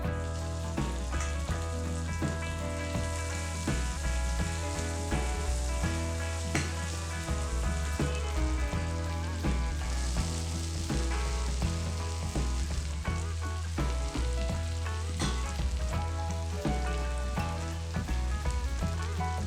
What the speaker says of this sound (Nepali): बेसार पनि राम्रोसँग फुरिसकेपछि अब यसमा अघि हामीले मोलेर राखेको सिप्लिगानको साग र आलुलाई मिलाएर राख्नुहोस्